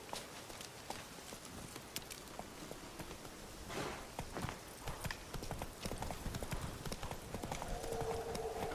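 Roach, the horse in The Witcher 3: Wild Hunt on PC, walking with a steady, close clip-clop of hooves over a low ambient game soundscape.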